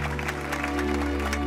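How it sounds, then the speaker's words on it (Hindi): Children in a classroom clap in brief, rapid, uneven applause, close by, over a steady low hum. "तालियां बजाओ उसके लिए।"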